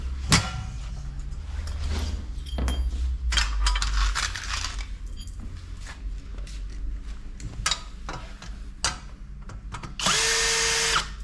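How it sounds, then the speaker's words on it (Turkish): Power drill driving screws into a machine stand during assembly, with several short whirring bursts separated by pauses, a sustained whine near the end, and scattered knocks of handled parts and tools in between. "Vidaladım, sıkmadım."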